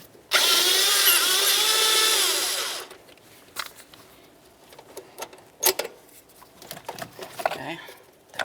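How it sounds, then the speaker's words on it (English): A power tool spins a 12mm socket to remove a bolt while working on a Toyota RAV4 engine during a knock sensor replacement, a loud steady whir for about two and a half seconds, then softer clicks and clatter. "Remove this bolt right here using a 12mm socket."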